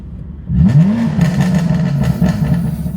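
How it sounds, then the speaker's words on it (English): A BMW F80 M3 with a 700 hp engine revs hard from idle, the deep growl climbing sharply and then holding a loud, rough, throbbing note close by. "All right, let's give it a little rev."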